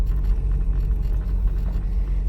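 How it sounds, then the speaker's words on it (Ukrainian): A car pulls away in first gear on a driving-exam course, a low steady engine rumble heard from inside the car with no talking. "Рухаємося по території, зайнявши праве положення на дорозі на першій швидкості"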